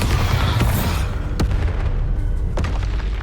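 A Bombarda spell going off in Hogwarts Legacy, a heavy booming explosion with a deep rumbling body and sharp cracking blasts at intervals, loud and close, with no speech.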